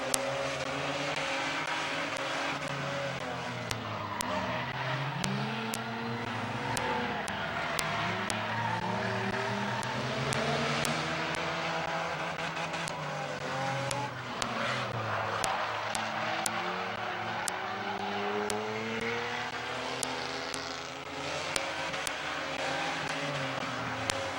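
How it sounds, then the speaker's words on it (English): Race cars at Midvale Speedway roar past on a dirt or short oval under green-flag racing, engines rising and falling continuously with repeated Doppler sweeps as packs pass, loud and sustained throughout. "Green flag racing. Here we go."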